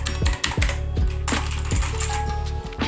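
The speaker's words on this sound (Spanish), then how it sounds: "pues vamos a regresar la tecla" A keycap is pressed back onto a T60 RGB mechanical keyboard, giving a close series of sharp plastic clicks and snaps at an irregular pace.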